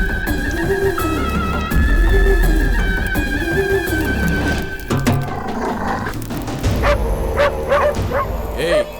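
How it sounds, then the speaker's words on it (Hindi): Dogs bark and yip outside at night during a tense film scene, rhythmic barking under a droning musical score and background sounds, with someone speaking briefly. "कुत्ते भौंक रहे हैं, जाके देखो कौन है।"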